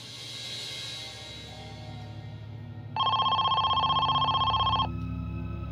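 A telephone rings with a ransom call, one sustained electronic ring of about two seconds that cuts in loudly over a low background hum and then stops abruptly.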